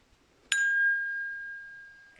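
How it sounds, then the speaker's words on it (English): A single bright phone notification ding strikes sharply and rings on as a clean sustained tone, slowly fading over about two seconds in an otherwise quiet room. "my phone dinged"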